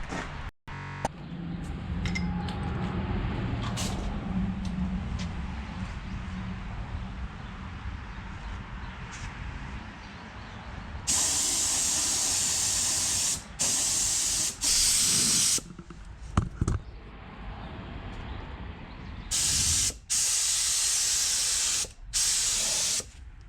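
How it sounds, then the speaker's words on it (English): Bursts of spray paint hiss in several long and short blasts as a car's wheel wells are sprayed, with quieter rustling and handling noises between them. "spraying underneath all these wheel wells and everything"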